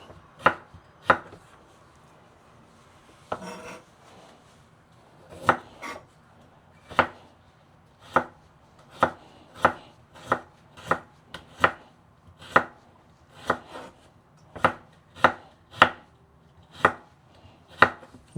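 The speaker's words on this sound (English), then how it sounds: "You just have to be careful when you're chopping these so that you don't cut yourself." Chopping vegetables for a white bean and spinach dish served with posho: sharp, crisp knife strikes on a board, about twenty evenly spaced chops at a steady, unhurried rhythm, close and distinct with no talking.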